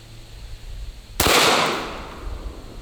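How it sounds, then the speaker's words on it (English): A single sharp, loud Glock 17 handgun shot at a shooting range, a sudden blast that rings out and decays over about a second, with no talking. "We're shooting this one out of the Glock 17."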